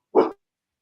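A dog gives a single short, loud bark up close, then falls silent.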